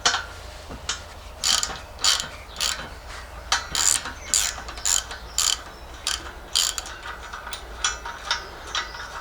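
Grease gun being pumped on the grease nipples of a mini excavator, a steady series of short ratcheting clicks and squeaks in an irregular rhythm, close and fairly loud with no talking.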